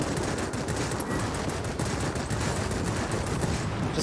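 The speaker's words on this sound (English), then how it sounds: "let's start using these guns to start setting stuff on fire" Rapid aircraft gunfire in the World of Warplanes video game, a dense continuous burst of machine-gun shots running throughout without any talk.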